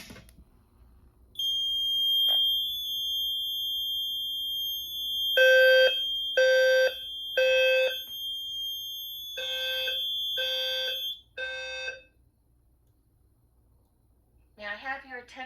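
A Notifier NFS-3030 fire alarm system with DVC sounds a repeated pattern of loud electronic tone pulses in two groups of three over a steady high tone, followed by a voice announcement beginning.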